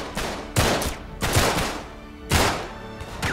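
Gunfire in the video game Uncharted 3 comes as three loud, sharp shots spaced about a second apart, each with a short ringing decay, close and alone without talk.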